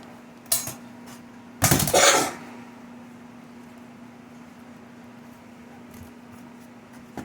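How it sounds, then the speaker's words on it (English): Ash pan of a Hot Blast 1500 coal stove being emptied: two metallic scraping, rattling bursts, the second longer and louder, over a steady low hum, with no talk. "I'm going to empty my ash pan."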